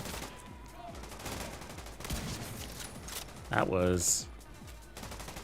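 Sniper rifle fire in the video game The Division 2 comes as a run of sharp, close shots under excited talking, with a brief louder burst partway through.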